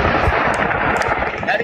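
A steady barrage of gunshots from a mass shooting in Las Vegas pops in quick succession, sounding distant and layered over crowd-like noise and faint voices.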